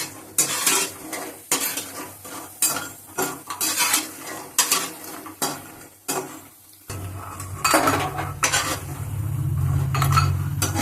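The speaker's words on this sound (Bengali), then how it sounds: "বড়িটা একটু লাল করে ভাজতে হবে।" Sun-dried lentil dumplings (bori) fry in a pan while a metal spatula stirs and scrapes them in quick, irregular strokes, then a louder steady sizzle takes over near the end, with no voices.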